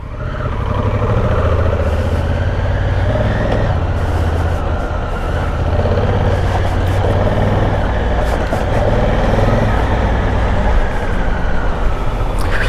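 A Honda Africa Twin motorcycle engine running after three months of sitting, a steady loud idle rumble with a few revs and clicks throughout, close to the microphone.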